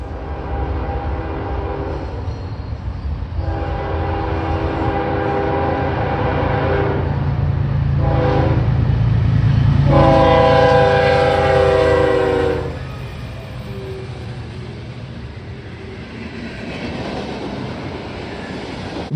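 A Norfolk Southern freight train rumbles past on the Cleveland Line, its horn sounding in several loud, sustained blasts midway before the horn cuts off and the heavy rolling noise of the cars carries on alone.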